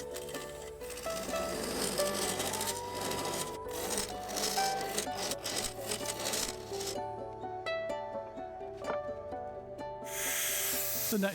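Carbide tool cutting a walnut blank on a wood lathe, a continuous rough scraping rasp that rises and falls with the passes, joined by brief quieter pauses and some tonal ringing near the end.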